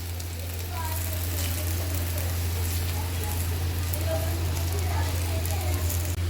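Okra and fried onions crackle in a hot pan for bhindi gosht, giving off a steady, dense sizzle that stays level throughout.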